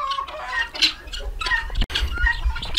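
A flock of guinea fowl on a small farm calling loudly nearby, harsh repeated cackling cries overlapping in a noisy chorus with a brief break partway through.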